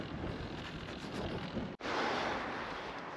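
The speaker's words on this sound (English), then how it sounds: "It's windy." Wind blows steadily across the microphone outdoors on a cold day of about one degree, a continuous rough roar with one brief dropout midway.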